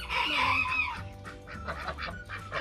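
Ducks give loud, harsh honking calls close by, with one strong burst at the start and then shorter, choppier calls, with no talk.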